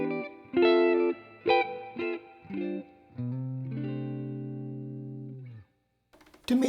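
An electric guitar plays a few clean, slightly driven chords and notes through a Universal Audio Dream '65 amp pedal with controls at 12 o'clock, ending on a sustained chord, then a brief scrape.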